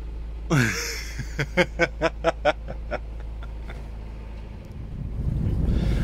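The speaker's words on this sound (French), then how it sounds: "C'est le moteur qui ronronne ou c'est toi?" A sailboat's engine hums as a steady low drone, with a series of rhythmic chirps or squeaks over it and wind noise rising toward the end.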